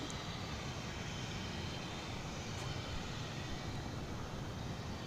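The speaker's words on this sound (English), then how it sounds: "Cancun is about to take off. It's an Airbus A321." An Airbus A321 airliner taking off at DFW Airport, a steady, distant broadband engine roar that holds at an even level throughout with no talk.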